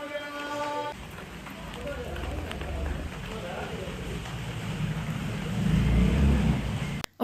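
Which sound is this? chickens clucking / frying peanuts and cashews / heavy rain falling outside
heavy rain falling outside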